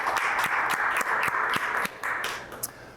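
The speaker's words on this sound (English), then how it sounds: "So quick round of applause for them taking some time out of their days for us" Audience applause for panelists at an innovation showcase event, a few seconds of scattered clapping with distinct individual claps, thinning out toward the end.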